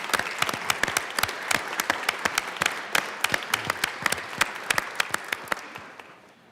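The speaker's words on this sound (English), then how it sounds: "if we could give her a round of applause" Applause ripples through the Colorado House chamber during a legislative floor session, with crisp, separate claps from a modest number of people near and far, steady at first and then thinning out and fading toward the end.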